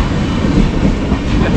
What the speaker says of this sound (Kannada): ಟ್ರೈನ್ ಹೋಯಿತು